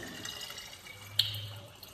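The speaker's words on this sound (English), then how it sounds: "Let me just quickly refill my water and put it back in the fridge" A kitchen water tap runs briefly while a water bottle is refilled, a soft close hiss of flowing water with a small clink partway through.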